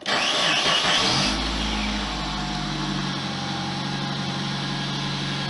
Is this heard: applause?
no